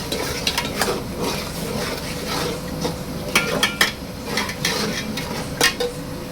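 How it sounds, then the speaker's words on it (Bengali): Biryani spice mix hisses and crackles in hot oil, a steady close sizzle broken by repeated scraping clinks of a spatula stirring the pan, with no talking. "মশলাটা একটু তেলে ভাজবো"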